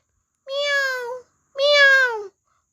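A voice imitates a cat with two drawn-out meows, clear and close, separated by a short pause against a silent background.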